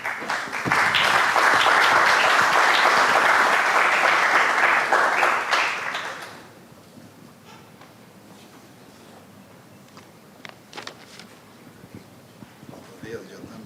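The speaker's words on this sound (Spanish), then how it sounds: "Ahora recibimos también con un caluroso aplauso" Warm applause from an audience at a presentation event rises loudly at once, holds for several seconds, then drops off to quiet room noise with scattered faint sounds.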